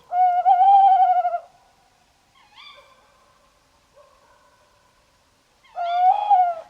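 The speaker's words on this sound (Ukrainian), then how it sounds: "Ось сова сіра. Мені б хотілося, щоб ви послухали, як вона кричить." A tawny owl calls in a clear, quiet setting: a long wavering hoot, softer broken notes, then another drawn-out hoot.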